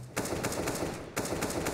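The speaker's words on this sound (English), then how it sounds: "Shooting at your teammates, Config, please." Rapid automatic gunfire in Counter-Strike on the de_nuke map, a dense, loud burst of shots from close by that breaks off briefly and then resumes, with no voices over it.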